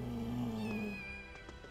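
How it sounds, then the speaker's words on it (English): A cat meows in Final Fantasy VII Rebirth, a drawn-out, wavering cry with a second, higher mewing voice joining midway, close and clear over soft game ambience. "Oh, there's a couple cats."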